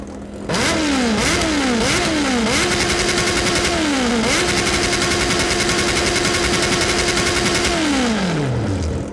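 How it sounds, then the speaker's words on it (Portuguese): A Honda CB1000 motorcycle in a mobile racing game bounces off its rev limiter: several quick rising engine revs cut off sharply, then a long held buzzing limiter note before the engine drops away. "Esse é o corte de giro da CB1000"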